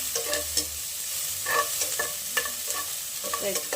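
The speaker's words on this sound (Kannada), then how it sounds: "ಇವಾಗ ಇದು ಈರುಳ್ಳಿನೂ ಮತ್ತು ಹಸಿಮೆಣಸಿನಕಾಯಿನ ಚೆನ್ನಾಗಿ ಫ್ರೈ ಮಾಡ್ಕೊಳ್ಳೋಣ" Onions and green chillies fry in a pan for a ridge gourd palya, with a soft continuous sizzle broken by repeated scraping stir strokes of a spoon against the pan, close up.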